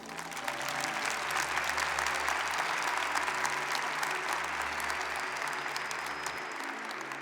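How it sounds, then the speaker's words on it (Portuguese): A church congregation applauds during a sermon, steady mid-distance clapping from a large crowd over a low droning hum, continuing evenly before easing off at the end. "Se você crê nisso, aplauda o Senhor."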